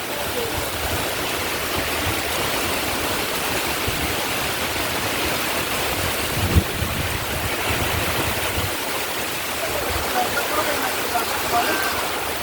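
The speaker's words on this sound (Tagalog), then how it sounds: "Lakas ng hangin at ulan." Strong wind and heavy rain during Typhoon Kristine, a dense continuous roar and hiss of wind-driven rain with deep low rumbling gusts, loud and unbroken throughout with one brief thump midway.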